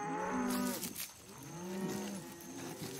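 A cartoon cow moos twice in long, drawn-out lowing calls, moderately distant, with a brief pause between them.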